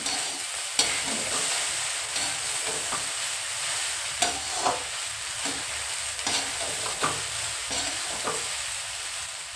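Cooked rice with fresh coriander is stir-fried in a pan, a close, steady sizzle broken by regular scraping and tossing strokes of a spatula, with no talk.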